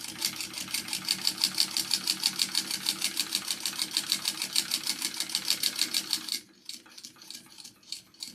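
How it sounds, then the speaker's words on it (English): A sewing machine fitted with a zipper foot stitches down the side of a small shoulder bag, running in a fast, even mechanical chatter for about six seconds before slowing into a few scattered stitches. "I'm just going to sew that down the side."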